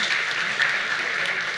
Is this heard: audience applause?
yes